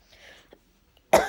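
A single sharp cough into a hand bursts out at the end, loud and close, after a quiet stretch with faint murmuring.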